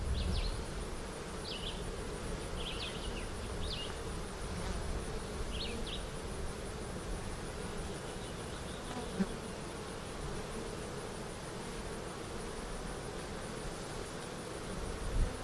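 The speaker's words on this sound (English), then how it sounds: "looks like most of the bees are in this area" Steady, dense buzzing of many honeybees around a hive, continuous throughout with a few faint chirps and clicks in the background.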